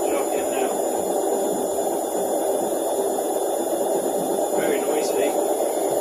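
Washing machine on its final spin, running past 600 RPM, producing a loud steady droning hum with constant motor whine and a high-pitched electrical tone throughout, no breaks in the noise.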